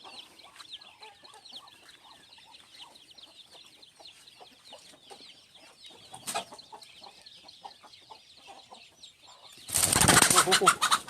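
On a duck farm among rice paddies in Thailand, poultry cluck and chatter softly nearby, then a sudden loud burst of flapping wings erupts at the end.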